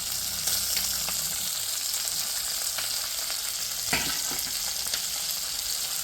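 Potatoes fry in plenty of hot oil for a pork dish, giving a steady, close, loud sizzle with a few sharper pops, and no voices.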